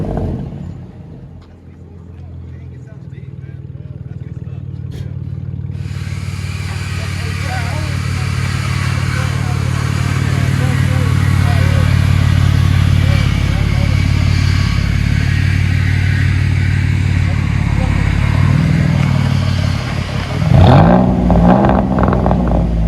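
A 2009 Dodge Charger SXT V6 with true dual straight-pipe exhaust rumbles at a low, steady idle that grows louder and heavier, ending in a sharper rev burst near the end.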